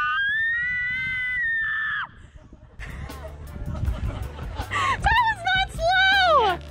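People on a thrill ride in Vang Vieng, Laos let out a long, loud, sustained scream, then more screams and shrieks over rushing wind and jostling noise.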